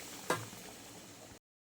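Potato curry with crisp fried potatoes bubbling in a pan, a brief stirring scrape near the start, then a steady low simmering hiss that stops abruptly.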